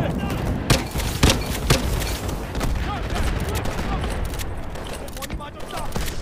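Gunfire in the Call of Duty Advanced Warfare video game, sharp shots and bursts cracking over a dense battle din, with people talking throughout.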